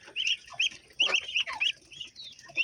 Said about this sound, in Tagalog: Ayan, mga sisiw.